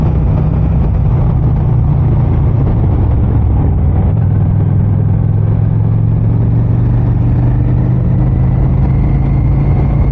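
A Honda Phantom motorcycle ridden at night, its engine droning loud and steady close up, a low rumble with a slight shift in pitch partway through as it downshifts, with wind noise and no talking.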